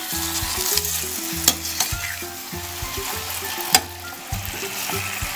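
Liver with onion and garlic stirred in a frying pan over a steady sizzle, with regular scraping strokes and two sharp metallic clinks of utensil against pan, close up and with no speech.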